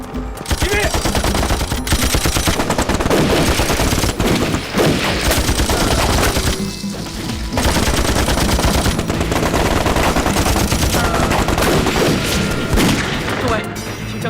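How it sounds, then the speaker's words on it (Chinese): Gunfire in a war film as Japanese troops storm a village, dense loud bursts of machine-gun and rifle fire with booms, near-continuous with a brief lull, and voices shouting amid the shooting. "听枪声，鬼子已经冲进村子了。"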